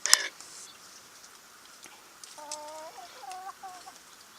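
Chickens cluck softly in a few short, tonal calls after a sharp knock, with quiet background between them.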